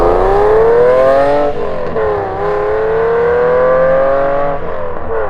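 BMW 850CSi V12 engine revs loudly and close, a smooth high-pitched wail that rises, dips briefly, then climbs again in sustained sweeps with no talking.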